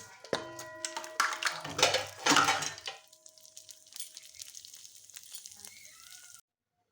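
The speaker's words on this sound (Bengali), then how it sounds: "ঘিটা গলে যাওয়ার পরে ধুয়ে রাখা চালটা দিয়ে দিচ্ছি গোবিন্দভোগ চাল" Washed Gobindobhog rice dropped into hot ghee in a pan, a loud crackling sizzle for a few seconds that settles into a gentler, fading fry.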